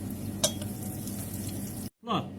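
Sausages crackle and sizzle in a heated pan, a steady frying hiss with a sharp clink of utensil near the start and a brief stir toward the end, close and moderately loud.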